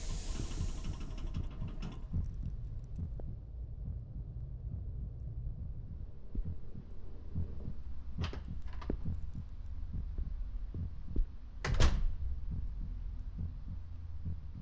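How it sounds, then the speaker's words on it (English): A slow, deep thudding heartbeat pulses steadily in the horror video game Song of Horror, low and throbbing under a dark ambient hum, with a few sharper knocks and bumps, no talking. "Why is my heartbeat beating?"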